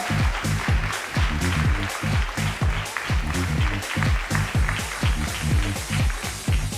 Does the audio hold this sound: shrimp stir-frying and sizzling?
no